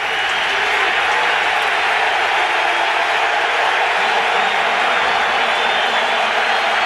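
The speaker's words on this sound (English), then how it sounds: "Boy, and the crowd is into it." Large football crowd of over 67,000 roaring and cheering at Seahawks Stadium during a 49ers at Seahawks game, a loud, dense, sustained wash of noise throughout.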